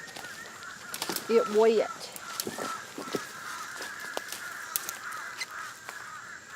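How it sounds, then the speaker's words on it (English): Crows cawing and birds calling loudly outdoors in ivy-covered woodland, with a short burst of harsh calls and scattered chirps around a person speaking briefly. "I hear the birds big time."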